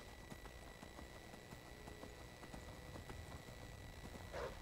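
Faint, steady clip-clop of a horse's hooves in the video game Skyrim, evenly spaced footfalls trotting along over a constant ambient background, with no speech.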